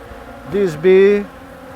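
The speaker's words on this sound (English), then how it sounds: "If you see this bee," Honey bees buzz over honeycomb in an organic apiary in Fujairah, a close, steady hum that swells into a louder, higher drone before settling back.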